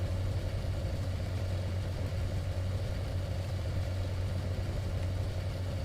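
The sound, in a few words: tank engine revving high in Sprocket video game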